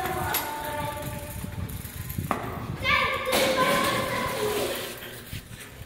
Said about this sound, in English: I dropped my bike.